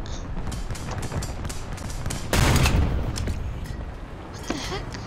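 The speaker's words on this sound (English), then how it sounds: "where is this guy that's shooting at me?" Heavy gunfire and bursts of shooting in a tank combat game featuring a Churchill Crocodile flamethrower tank, a dense rumbling barrage with a louder blast midway, continuous throughout.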